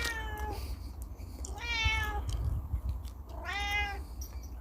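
A cat meows three times, each call drawn out and rising then falling, spaced across a steady low background rumble.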